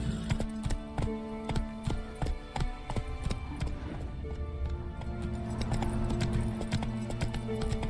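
Roach, the horse in The Witcher 3 video game, gallops in a fast, steady run of hoofbeats, loud and close, layered over game ambience and music with no speech.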